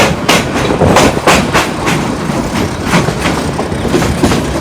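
A passenger train on the Dhaka to Kishoreganj line runs on its rails with a loud, continuous rumble and a regular clickety-clack of wheels over rail joints, heard from close by with no voices.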